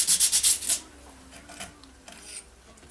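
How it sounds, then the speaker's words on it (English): Hand sanding of a bronze thrust washer for a 1980 Can Am MX-6 125 motorcycle restoration: a quick run of about six loud, rhythmic rubbing strokes, then a few fainter, scattered scrapes. "I'm just sanding a little bit and then measuring."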